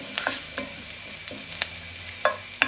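Chorizo frying in a pan with its paprika-red fat rendering out, giving a soft steady sizzle broken by several sharp scraping knocks of a utensil against the pan, close and moderately loud.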